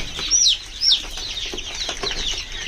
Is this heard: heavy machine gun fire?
no